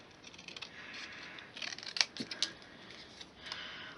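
Scissors snipping card trim for a Christmas star craft, a few quiet close cuts with soft clicks and rustling paper between them, the sharpest snips clustered in the middle.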